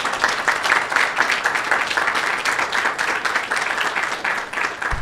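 An audience at a security conference claps together in sustained, dense applause, a steady crackling wash of many hands filling the room for several seconds without pause.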